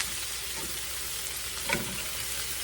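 Cabbage fries in a skillet, soon to be joined by pork chops, with a soft steady sizzle throughout and a brief scrape or stir near the middle.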